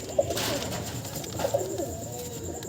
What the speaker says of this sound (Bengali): আর এই দেখুন পায়রার গেট আপ।